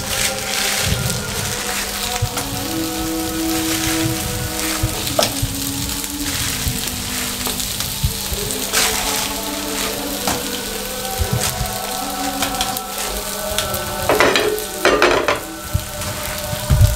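Seekh kebabs sizzling on a flat tawa griddle, a continuous loud frying hiss with a steady hum underneath and occasional pressing and scraping sounds, no voices.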